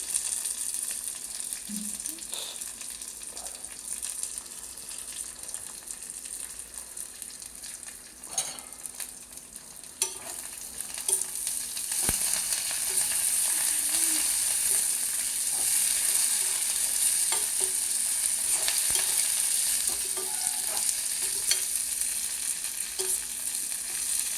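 Ingredients for peanut chutney fry in a pan with coriander, a steady hissing sizzle with scattered scrapes and clinks of stirring that grows fuller and more even in the second half.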